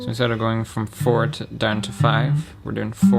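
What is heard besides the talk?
No everyday noise stands out behind the speech.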